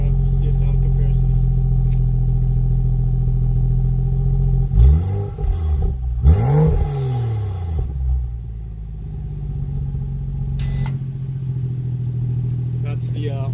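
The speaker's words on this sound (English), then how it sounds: "Just going to get a little rev, see a sound comparison." Car engine with its exhaust valve held always open, controlled by a JB4 tuner: a steady deep idle rumble broken by two sharp revs that rise and fall, loud and close, before settling back to idle.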